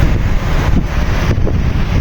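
Steady, loud wind buffeting the microphone at a construction site in Japan, a continuous low rumble with gusty surges and no clear pauses.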